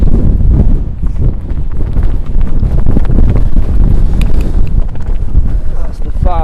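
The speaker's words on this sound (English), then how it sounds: "It's just a bit windier today." Strong wind buffets the microphone on a golf course, a loud continuous low rumble with gusts throughout, under faint background voices.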